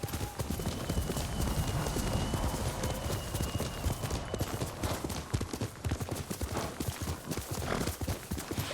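Horse hooves galloping in the video game Ghost of Tsushima, a fast, steady clip-clop rhythm at moderate volume lasting the whole stretch, with faint ambient game sound underneath.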